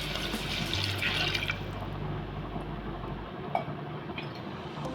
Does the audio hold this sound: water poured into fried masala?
yes